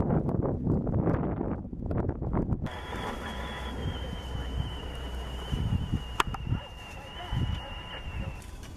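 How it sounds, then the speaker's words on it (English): A strong gale roars around an outdoor picnic shelter, buffeting the microphone with a steady, loud rumble and gusty swells throughout. "It's kind of a gale."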